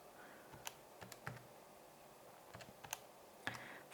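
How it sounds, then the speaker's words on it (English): Faint, scattered key presses sound as numbers are typed into a calculator. The quiet, uneven clicks come in small clusters with no speech. "I'm going to type that all into my calculator at once."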